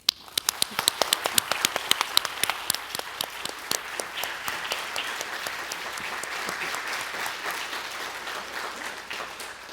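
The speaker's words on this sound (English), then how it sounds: "Please join me in thanking our speakers, Elise Effman-Clifford, Bart de Volder, Michael Gallagher, with an applause." Audience applause after a panel talk on art conservation at the Kimbell Art Museum: loud, dense clapping that starts with sharp individual claps, then settles into a steady, continuous ovation for the full length.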